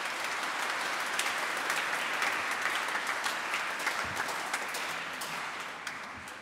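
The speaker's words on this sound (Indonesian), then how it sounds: "Tepuk tangan untuk kelompok KUR." Congregation applauding inside St. Barnabas church during an inculturation Mass, a sustained, fairly distant roll of many hands clapping with a few sharper claps standing out, gently fading toward the end.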